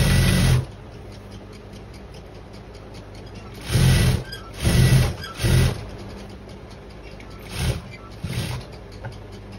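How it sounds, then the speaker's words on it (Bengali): A sewing machine stitches invisible lace onto a kameez in short, loud bursts: one run at the start, then a cluster of three close together, then two more after pauses. "এইদিকে একটু টান টান করে সেলাইটা দিয়ে নিব।"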